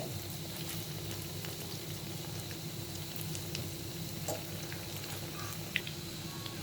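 Fish kebabs frying in a pan, a steady soft sizzle throughout with a faint scrape or tap as they are turned.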